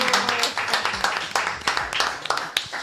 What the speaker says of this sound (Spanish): Ana Tropea, a quien recibimos con un fuerte aplauso